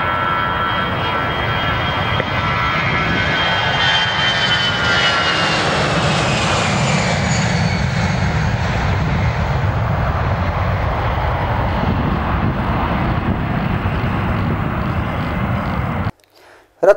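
An airplane engine roars steadily at Ratnagiri airport, loud and continuous, with the pitch slowly rising and falling as the aircraft moves, before cutting off abruptly near the end.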